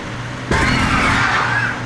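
A bus in the SCS Bus Driver video game lurches off-road with a sudden loud engine surge and rough rolling rumble that holds steady and close after a quieter idle.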